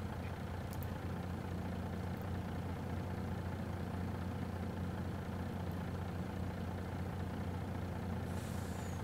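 In Farming Simulator 22, a truck engine idles in a steady, even low rumble that runs unbroken from start to finish, with no speech over it.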